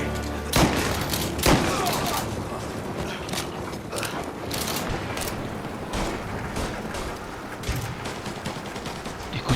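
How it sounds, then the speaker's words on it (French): Bursts of gunfire in the video game Mafia crack and pop repeatedly, with sharp loud shots and rapid volleys over a busy background. "Des coups de feu?"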